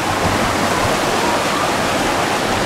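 A water wheel turns in a river along the Estes Park Riverwalk, masked by a loud, constant roar of rushing water nearby with no distinct rhythmic thumps standing out.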